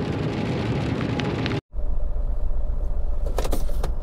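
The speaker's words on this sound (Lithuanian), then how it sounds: "Lietus užėjo čia." Rain falling on a car, a dense steady patter on the body and windows heard from inside, broken by a brief silent cut, then a lower rumbling drone with scattered louder drop taps.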